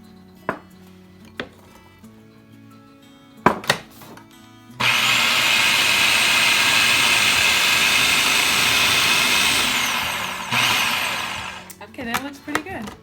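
A blender pulses marinade ingredients for Cuban roast pork, a loud, steady whirring burst of about six seconds that cuts out briefly and restarts, with sparse clatter before and after.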